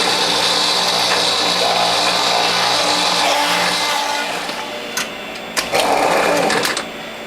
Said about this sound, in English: Next we'll put the celery through.